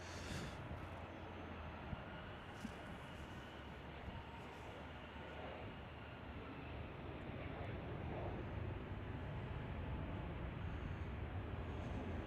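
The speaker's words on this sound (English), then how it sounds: "We do still have Atlas Air taxiing." An Atlas Air jet taxiing at Chicago O'Hare airport, heard as a steady low engine rumble and broadband roar that holds evenly throughout, with no voices.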